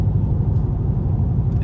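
A cammed car engine idles with a loud, lumpy low rumble, steady and close throughout with no talk.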